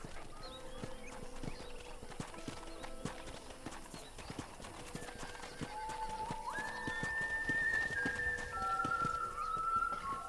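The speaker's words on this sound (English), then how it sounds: "let's see if you can still ride a horse" Steady clip-clop of horse hooves at a walking pace on a ranch in the video game Red Dead Redemption, with an occasional whinny and bright tonal chimes rising in the background.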